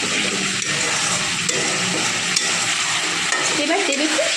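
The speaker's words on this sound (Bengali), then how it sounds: "এবার সামান্য আরেকটু মশলাটা কষে নিচ্ছে" Spice paste with a pinch of sugar is stir-fried for a small potato and pea curry, a loud, steady sizzle with scraping stirs close by and no talking.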